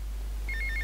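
A telephone rings in GTA Vice City, set in Little Havana, with repeated short electronic trill bursts starting partway through over a steady low game hum.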